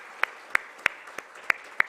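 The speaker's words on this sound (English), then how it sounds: "Kindly keep the applause going." Sparse, separate claps ring out at a ministerial conference curtain-raiser, about six sharp hand claps spaced evenly and moderately close, with quiet room tone between them.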